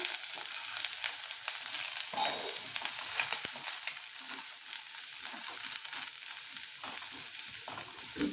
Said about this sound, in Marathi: आता आलं लसूण परतलंय व्यवस्थित. ह्याच्यामध्ये आपण मटार ॲड करूया.